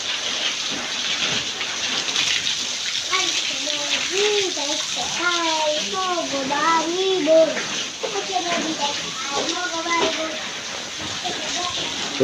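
Water is splashed across a cow shed floor during the morning cleaning after the dung has been cleared, making a steady rushing wash under several voices talking nearby.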